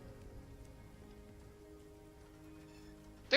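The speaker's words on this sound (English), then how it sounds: "There's walking sounds in this rain, whatever you're playing, right?" Rain falling steadily on a surface as played background ambience, a continuous soft patter with possible faint footsteps mixed in, heard alone without talk.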